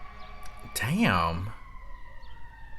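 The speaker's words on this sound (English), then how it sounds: "I don't know if that's if you're gonna be able to hear the ambulance" Ambulance siren wails once in a single rising and falling sweep, fairly clear against a quiet background, then fades out.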